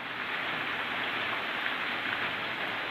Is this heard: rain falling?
yes